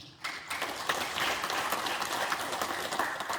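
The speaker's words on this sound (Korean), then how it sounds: "한 번 더 박수를 부탁드립니다" Audience applause at a history lecture in a Korean cultural hall, for a professor presenting on ancient Gaya kingdoms; dense, steady clapping from a crowd, fairly even throughout after a brief start.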